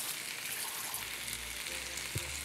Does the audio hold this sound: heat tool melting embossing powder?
no